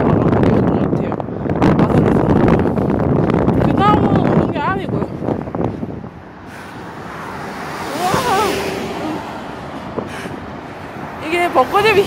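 Wind gusts across the microphone outdoors at a cherry-blossom spot on a spring day, a loud broadband rush in the first half that eases into softer breezy noise, with a person talking over it.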